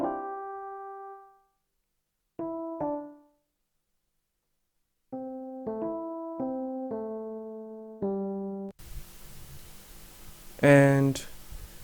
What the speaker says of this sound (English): I then added another electric piano, which is playing the melody